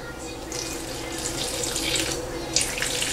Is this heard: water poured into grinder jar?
yes